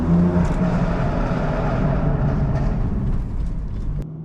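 A 600 bhp BMW M4 roars loudly inside a tunnel, a dense reverberant engine rumble holding steady for several seconds before easing slightly at the end.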